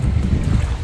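Strong gusts of wind by the Danube buffet the microphone in a low, rumbling roar for under a second, with no voices.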